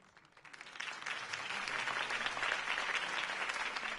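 Applause from a large crowd in a Batman video game rises quickly and continues as a steady, moderately distant roar of clapping.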